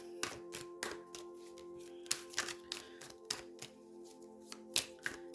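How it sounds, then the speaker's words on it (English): Tarot cards being shuffled in quick bursts of crisp riffling and tapping, close by, with short pauses between, no talking. "it's really making me shuffle here"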